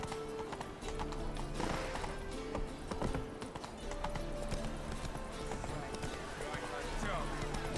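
In The Witcher 3, the horse trots along a road with clear, rhythmic clip-clop hoofbeats that carry steadily through the game's ambient sound, with voices nearby.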